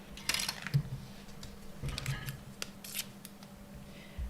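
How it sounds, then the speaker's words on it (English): A die cutting machine cutting card for a toolbox and house card, heard as a few brief mechanical clicks and crunching snaps with quiet handling noise between them, close by and without speech. "let's go ahead and die cut"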